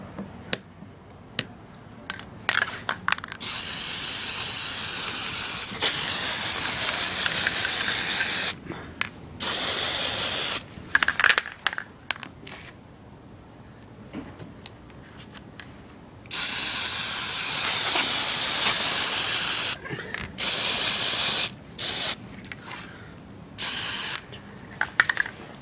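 Aerosol cans spray Plasti Dip rubber coating onto a Ford Mustang for a Super Snake stripe, in repeated hissing bursts of a few seconds each separated by short pauses, close and loud, with no talking.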